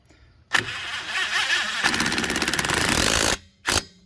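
A DeWalt 20V brushless impact driver runs up loudly to snug a bolt, a steady rattling hammer lasting about a second and a half, followed by a brief second burst.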